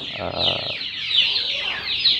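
Chicks and chickens at feeding time on a poultry farm, several close high clucks and chirps in a short irregular run, with a brief low murmur near the start.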